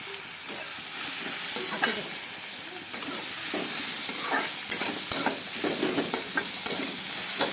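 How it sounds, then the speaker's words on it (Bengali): Onions frying in a pan with turmeric and salt for a small-fish curry, a continuous close sizzle broken by repeated scraping and stirring clicks of a spatula at an uneven rhythm. "এবার পেঁয়াজটা মোটামুটি ভাজা ভাজা হয়ে গেছে"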